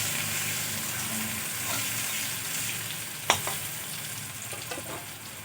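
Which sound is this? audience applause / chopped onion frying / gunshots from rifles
chopped onion frying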